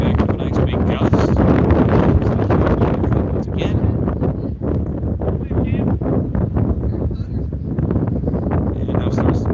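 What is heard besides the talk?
strong wind gust blowing at baseball field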